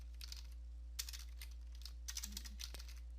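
Quick bursts of keystrokes on a computer keyboard, clicking in short uneven clusters against a quiet background, typed while entering a command on a Windows PC.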